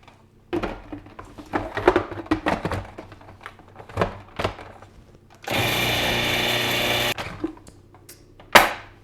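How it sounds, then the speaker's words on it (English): Food processor running in a home kitchen, a loud steady motor whir lasting under two seconds, preceded by a series of bumps, clacks and handling knocks as the machine is loaded and fitted. "I'm going to put this in the food processor."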